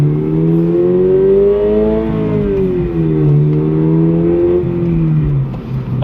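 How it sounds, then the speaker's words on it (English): A car engine revs hard and loud through a series of crisp downshifts, the pitch climbing and dropping repeatedly in a steady, continuous roar with no one talking. "But the downshifts are getting crispy"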